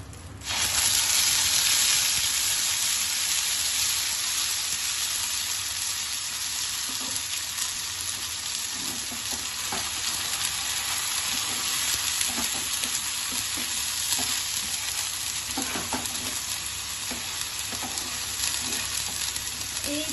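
Ground spice paste, onion, ginger, dried red chili and sour curd for doi rui sizzling hard in a pan, a loud continuous hiss lasting throughout with occasional stirring clinks, close up and with no speech.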